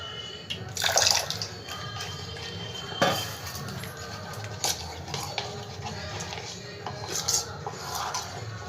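Water added to papad batter while it is mixed by hand in a bowl, soft wet stirring and splashing with a few light clinks, faint and close, no talking.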